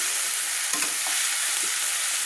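Steady close sizzle of potatoes and onion stalks frying in oil for a prawn curry, with a few soft stirring knocks and a louder clatter at the very end.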